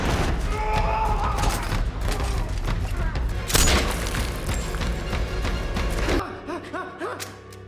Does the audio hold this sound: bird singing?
no